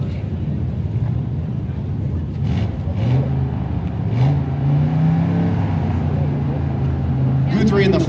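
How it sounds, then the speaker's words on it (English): A red C2 Corvette Roadster passes at a race-week drag event, its engine note rising and swelling as it revs and approaches, with steady crowd and background noise around it. "Scott Guthrie coming at you, the red C2 Corvette Roadster"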